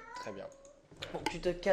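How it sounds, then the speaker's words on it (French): A house cat meows a few times close by, short cries mixed in with someone speaking French over them. "Bon, mon chat fait vraiment du bruit."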